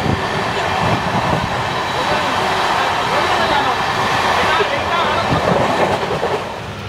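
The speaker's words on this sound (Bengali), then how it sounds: "আমাদের ট্রেন এসে গেছে আমাদের প্রথম স্টপেজ, যেটি হচ্ছে নৈহাটি জংশন।" An express train pulls into Naihati Junction on a Kolkata to Sairang run, heard from on board as a loud continuous rumble with faint wheel clatter that eases off toward the end.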